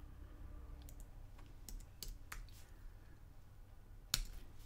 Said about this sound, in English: okay, I'm typing it into the chat so you get to see it.